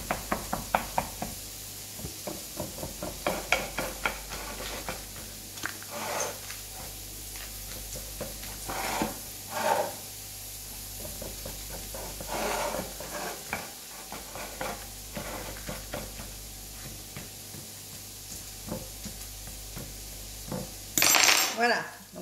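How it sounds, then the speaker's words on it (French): A fork pricks pastry dough lining a tin, making a series of soft, close taps and scrapes against the tin's base. A faint kitchen hum runs underneath, with a louder clatter near the end. "Je vais piquer ma pâte dans le fond."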